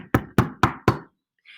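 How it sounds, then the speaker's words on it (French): Four sharp, evenly spaced knocks land on a door in quick succession, loud and close, followed by a short silence and a brief faint sound at the end. "Il frappa à la porte."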